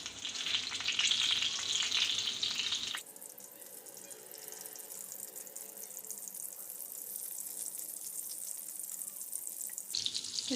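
Stuffed brinjals frying in oil over a low flame, with a loud bright sizzle for a few seconds that settles into a quieter steady crackle, then flares up sharply again at the end, with no talking.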